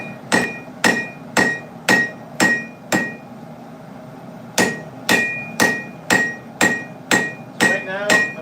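A blacksmith's hammer tapping hot steel on an anvil while forging a steak flipper, two runs of bright ringing strikes, six and then eight, evenly paced with a short pause between, loud and close.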